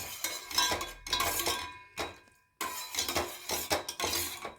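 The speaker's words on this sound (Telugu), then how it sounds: "మధ్య మధ్యలో కలుపుతూ ఉండాలి." A spoon stirs sugar syrup in a pot on the stove while making sakkare achchu, producing repeated scraping clinks against metal in short rhythmic bursts with a brief pause partway through.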